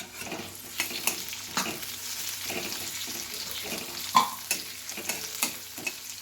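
Onion fries in a pan as chopped tomato goes in, producing a soft steady sizzle broken by regular spatula scrapes and a louder clack near the end, with no speech.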